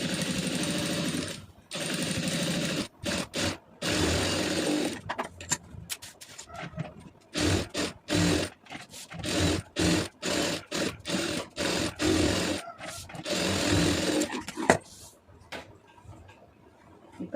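A sewing machine stitches the lining of an Aari blouse in short, rapid bursts separated by brief pauses, with a fairly close, moderate whirring rattle and no speech.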